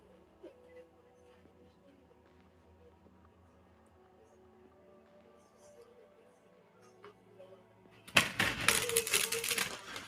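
Tarot deck being shuffled near the end, a brief dense burst of riffling card noise after a stretch of quiet background sound.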